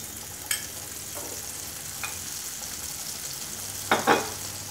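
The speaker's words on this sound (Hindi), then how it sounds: "अब जब तक मसाला तेल ना छोड़े हम इसको पकने देंगे, फ्राई होने देंगे" Spice masala paste fries in hot oil while being stirred, giving a low steady sizzle with a few soft scrapes and a louder pair of stirring scrapes near the end.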